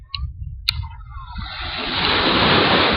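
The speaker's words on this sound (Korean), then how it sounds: "파도가 노트북에 막 튀어요." Ocean waves wash in at the seaside, starting with a few light splashes and rising into a loud, hissing rush of surf that swells and holds near the end.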